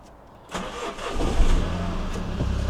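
A Mini Cooper recovering from a coolant fault cranks briefly and catches, then settles into a steady close-up idle with a low rumbling engine note; no voices.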